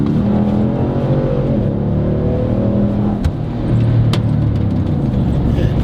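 Nissan Patrol Y62 engine fitted with a Unichip, accelerating with a loud, steady throaty drone and rising rev tone heard close from the cabin, no talking.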